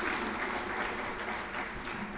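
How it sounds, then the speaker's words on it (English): An audience at a hurricane protection meeting gives a round of applause, steady continuous clapping heard softly from a distance for a couple of seconds. "I'd like to give another round of applause to Lance and Wayne"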